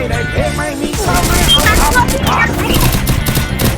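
Rapid gunfire bursts from a video game shooter, dense and continuous throughout, mixed with game effects and faint voices underneath.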